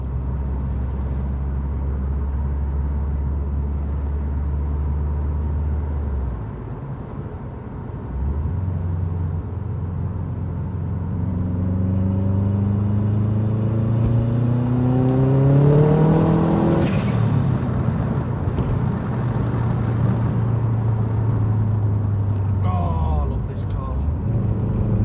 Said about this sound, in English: Engine's running properly.